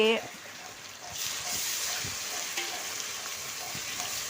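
Chopped onions, about 200 grams, frying in a pan of hot oil for a country chicken curry, a steady close sizzle with faint stirring scrapes throughout.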